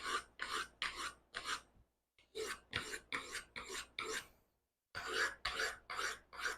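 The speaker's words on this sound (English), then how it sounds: "So we're bringing an edge back. We're what, a minute into the sharpening?" Knife blade sharpened by hand on a stone, rhythmic rasping strokes in quick runs of four to five with brief pauses between sets, close and steady.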